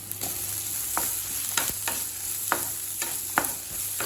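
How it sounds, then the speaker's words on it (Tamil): Carrot and capsicum sautéed on a high flame with garlic, for an Indian-style white sauce pasta: steady frying hiss with repeated scraping spoon strokes against the pan, close and alone with no talk. "நல்லா ஹை ஃப்ளேம்லேயே வச்சுட்டு 2 நிமிஷம் வரைக்கும் வதக்குனிங்கன்னா போதுங்க"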